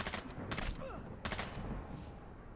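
Bursts of gunfire in the stealth shooter Splinter Cell Blacklist during co-op Missile Control mission, with several broad shot clusters and a clattering volley, fairly loud over a busy game background with some voice underneath.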